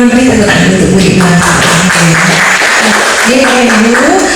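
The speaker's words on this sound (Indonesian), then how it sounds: "Beri tepuk tangan untuk Bu Dikma" An audience at a meeting applauds a speaker, giving a dense, loud wash of clapping with a voice talking over it throughout.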